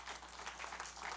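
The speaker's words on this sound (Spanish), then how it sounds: "¿Le puede dar un aplauso al Señor en esta noche?" Applause from a church congregation, a steady wash of clapping heard alone at moderate distance for about a second.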